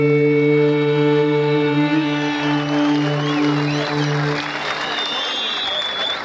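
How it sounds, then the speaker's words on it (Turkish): A crowd applauds at a Turkish music performance, a broad wash of clapping that rises as a held sung note and instrumental tone fade out partway through. "teşekkür ediyorum o güzel alkışlarınıza."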